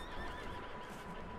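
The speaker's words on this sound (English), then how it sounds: "Were those wild horses?" A horse whinnies in the video game Red Dead Redemption 2, drawn out and fairly faint, over a steady background wash; a short snippet with no talking.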